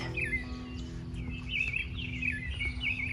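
Birds chirp and tweet in an outdoor garden, several bright repeated calls coming in short bursts over a quiet background hum, moderately close and alone without speech.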